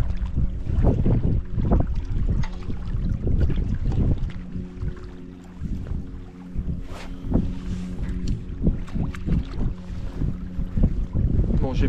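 Gusty wind over a lake during a fishing session, steady rushing noise buffeting the microphone alongside faint boat-like rumble, with no talk.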